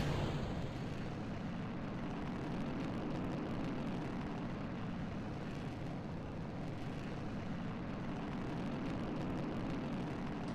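A flight sim aircraft engine at full throttle spooling up, a loud, steady, dense roar that holds constant throughout with no voices.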